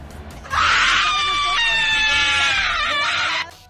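A woman footballer screams at the top of her lungs in pain after being kicked, one loud, sustained, piercing cry lasting about three seconds, close and dominant over faint background.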